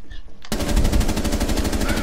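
Rapid automatic gunfire from Rainbow Six Siege bursts in after a brief quiet moment and continues loud and dense to the end.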